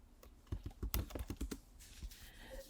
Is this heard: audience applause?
no